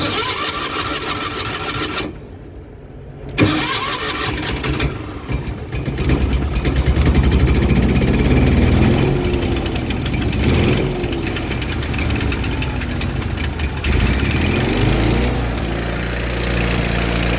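An engine with a clogged fuel filter cranks briefly, catches after about three seconds, then runs loud and close in a steady, continuous drone as it settles toward idle, with no talking.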